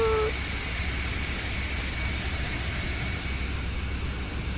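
An airliner rolls out after landing in Microsoft Flight Simulator, an Airbus A320 giving a steady, loud broadband jet roar with a faint high whine and low rumble, continuous and alone.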